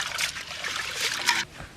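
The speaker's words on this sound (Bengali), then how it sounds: "ডালটি বালা মতন ধুইয়া লই।" Hands swish and rinse lentils (dal) in water at an outdoor village picnic, making a close, steady trickling and sloshing with a few brighter splashes, then trailing off at the end.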